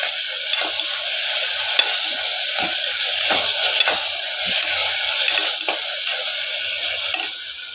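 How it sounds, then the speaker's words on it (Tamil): Chopped tomatoes sautéing in a hot pan for mutton bone soup, a steady close sizzle broken by scattered clicks and scrapes of a stirring spoon against the pan. "தக்காளி போட்டு வதக்கிக்கிறோம்"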